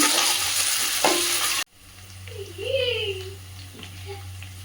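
Green chillies and curry leaves fry in a pan for a fish curry with a loud, dense sizzle that cuts off abruptly after about a second and a half. A quiet hum follows, with a brief voice.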